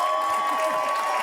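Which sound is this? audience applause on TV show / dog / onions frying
audience applause on TV show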